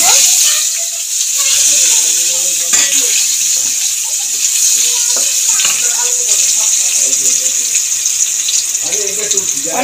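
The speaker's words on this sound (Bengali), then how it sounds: "পটল ভাজা তেলের মধ্যে আলুটাও ভেজে নেব" Potato pieces frying in oil already used for pointed gourd, a steady hiss with scattered clinks and stirring, under intermittent talk.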